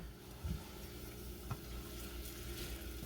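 Onions frying in a pan for marinara sauce, a steady close sizzle and crackle with a couple of soft clunks, no talk.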